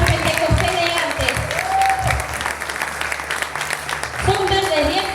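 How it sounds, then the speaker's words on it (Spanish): Church congregation clapping for the Lord during a Pentecostal-style sermon, a steady wash of applause running throughout with a preacher's voice and a sustained tone over it. "Dale un aplauso al Señor"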